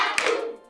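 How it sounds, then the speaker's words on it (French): A classroom of pupils clapping for themselves, a short burst of hand claps that quickly fades, with no talking. "Applaudissez alors pour vous."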